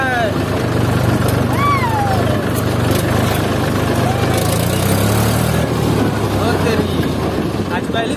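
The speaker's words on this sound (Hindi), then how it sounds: "ये देखो हम लोग जा रहे हैं अपने ट्रैक्टर में" A tractor engine chugs steadily while driving along a rough, bumpy road, a low continuous rumble with rattling, and someone talks over it throughout.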